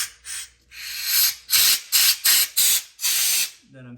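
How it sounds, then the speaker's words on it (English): Compressed air hisses through diesel injector parts being cleaned with parts cleaner, in about seven sharp, close bursts of uneven length, separated by brief pauses. "and then take some compressed air"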